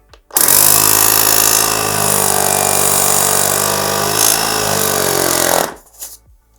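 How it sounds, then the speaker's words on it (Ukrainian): A compact Parkcity T2221 portable car air compressor starts abruptly and drones loudly with a buzzing motor rattle for several seconds, then shuts off by itself, leaving near silence. "Не дивлячись на свої розміри, доволі потужний потік повітря видає компресор."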